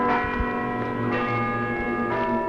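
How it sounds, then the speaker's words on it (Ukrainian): Loud, resonant church bells ringing at the Dykanka bell festival, several overlapping tones sustained and struck again, rich ringing hum filling the whole moment. "і розноситься цей дзвін на всю округу"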